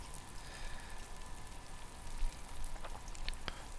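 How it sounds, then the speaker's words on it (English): Food fries in a pan in DayZ, a dense, steady sizzle crackling throughout at low level, with a few sharper pops near the end. "the way it's sizzling away"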